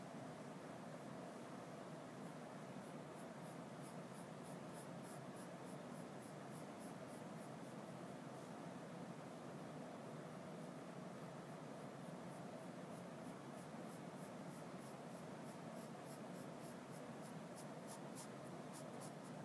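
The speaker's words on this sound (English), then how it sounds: "as long as you're drawing lightly, you can easily erase and fix" Quiet, continuous scratchy rubbing of a pencil lightly sketching a skull on paper, soft strokes repeating steadily with no voices.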